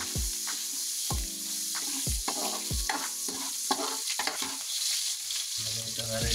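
Onion sizzles in hot oil in a pan while being stirred, a steady frying hiss broken by repeated sharp scrapes and clatters of the utensil against the pan.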